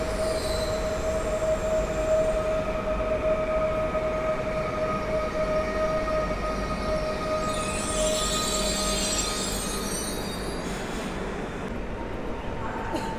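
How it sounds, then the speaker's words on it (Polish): Koleje Mazowieckie airport train to Modlin at Warszawa Zachodnia station, rolling with a steady loud rumble, a sustained wheel squeal tone and hissing bursts near the end. "Zawitał również pociąg lotniskowy Kolei Mazowieckich"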